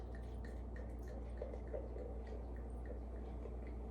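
Sparkling wine pours steadily into a glass with a soft fizzing hiss and faint bubbling drips, close by and continuous, with no talking.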